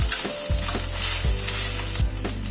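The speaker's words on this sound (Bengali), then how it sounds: "আদা বাটাটা দিয়েও কিন্তু হালকা করে ভেজে নেব।" Ginger paste fries lightly in a pan with a steady, bright sizzle, broken by a few soft thuds of stirring at a regular pace, close and without talk.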